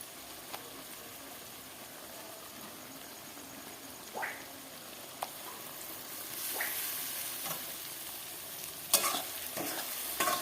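Ginger-garlic paste and meat sautéing in a pot for a large batch of biryani, with a soft steady sizzle under intermittent scraping stirs and clinks of a spoon against the pot, getting a little louder toward the end.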